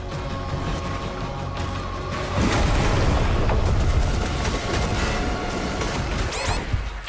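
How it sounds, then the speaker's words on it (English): Explosion in the video game DOOM: The Dark Ages, a heavy boom that swells and rumbles for several seconds over ongoing game noise, then trails off into scattered crashes and whooshes. "How is the explosion able to hit me when I'm inside a cave?"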